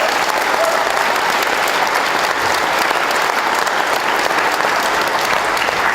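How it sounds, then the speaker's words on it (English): Audience applause at a motocross event introducing Pro Circuit riders, a dense, steady wash of clapping and crowd noise that holds at an even level throughout, with no talk over it. "Let's hear it for Josh Hansen"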